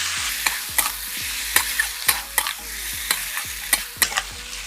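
Potatoes coated in spices, mixed with fried tomato and onion, are stirred in a pan: repeated rhythmic scrapes and clacks of a spoon over a soft sizzle, close up.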